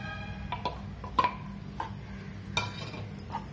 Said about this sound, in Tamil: நல்லா மிக்ஸ் பண்ணிட்டு மேலே கொத்தமல்லி தழை தூவிடலாங்க